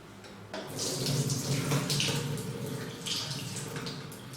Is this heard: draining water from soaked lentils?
yes